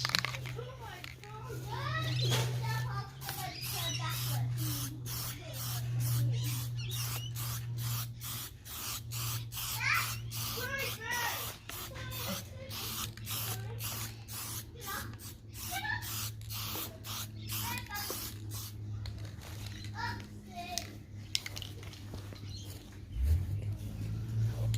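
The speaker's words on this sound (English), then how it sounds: "So we're just going to do a real light coat of clear over the grill now." A spray can lays a light coat of clear over a car grill in a long run of rapid, hissing spray bursts, close and steady, with a low hum and scattered chirpy background sounds underneath.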